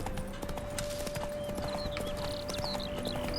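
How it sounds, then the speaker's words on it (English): A spooked horse named Roach in The Witcher 3 game, with soft clopping hooves and brief distressed neighing squeals over a steady ambient drone, no talking. "Spooking my horse. Roach doesn't like ghosts."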